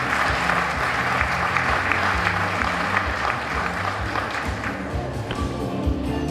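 Dense, sustained applause from an audience at a county Teacher of the Year event, honoring a teacher, with many hands clapping steadily and evenly for the full stretch.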